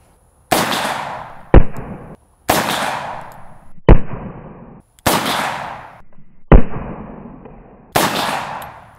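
A Smith & Wesson Model 69 .44 Magnum revolver fires four Remington UMC 180-grain rounds, each a loud, sharp blast with a ringing decay, spaced about two seconds apart, with a sharp clang after each of the first three shots.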